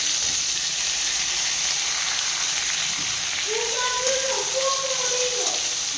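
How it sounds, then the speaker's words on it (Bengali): Eggplant slices fry in oil, making a dense, constant sizzle that stays loud and close for the whole stretch, and a faint tonal hum drifts in briefly toward the end. "আর এদিকে দেখো বেগুনটাকে আমি ভেজে নিচ্ছি"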